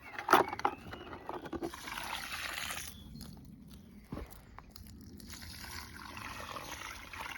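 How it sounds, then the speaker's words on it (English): Newly planted squash in garden mounds get watered, a soft steady splash and trickle of water onto soil with a few close knocks and rustles near the start, fairly quiet and continuous. "all that's left to do is give them a quick water, which I'll do now"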